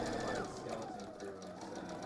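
Sewing machine stitching around fabric, a rapid rhythmic mechanical whir of the needle running steadily and close, with a voice talking over it.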